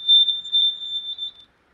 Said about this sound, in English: Sorry about that loud beeping.